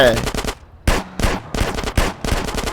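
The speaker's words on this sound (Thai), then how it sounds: "ทำไมมึงยิงปืนเสียงดังกันจังวะ" Rapid bursts of automatic gunfire in several loud volleys separated by brief pauses, with faint voices in the background, in the video game GTA.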